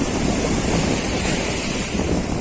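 Coastal surf washes in as the tide rises, a continuous loud roar of breaking waves mixed with gusty wind buffeting the microphone up close.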